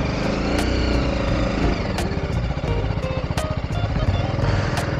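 A motorcycle rides off-road on a trip to the beach, its engine loud and close with a rough, fluctuating drone and periodic sharp knocks from the uneven ground.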